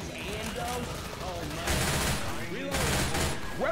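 Rapid bursts of automatic video game gunfire from a zombie co-op shooter, continuous and loud, with heavier volleys near the middle and end, while voices talk over it.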